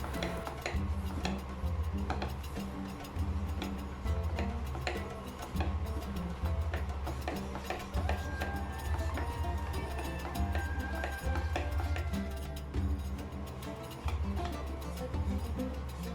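Milk powder roasts in homemade ghee in a kadhai as a spoon stirs it, giving a steady run of rhythmic metallic clinks and scrapes against the pan, with no voices.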